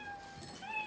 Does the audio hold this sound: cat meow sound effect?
yes